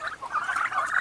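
Turkeys gobbling in a poultry pen, a quick burst of warbling, rattling calls heard close and fairly loud.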